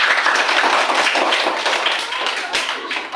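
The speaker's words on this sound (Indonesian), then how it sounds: "Beri aplaus dulu untuk Zikri" Classroom of students clapping for a classmate, steady dense hand-clapping throughout from many children close by, with voices mixed in.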